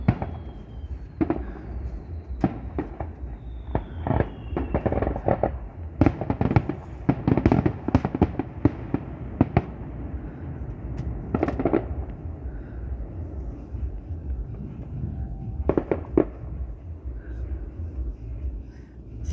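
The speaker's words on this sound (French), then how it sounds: "il y en a qui s'amusent à lancer des feux d'artifice" Fireworks set off at a campervan park at night, a long series of irregular sharp bangs and crackles at middle distance, some in quick clusters, over a low rumbling background.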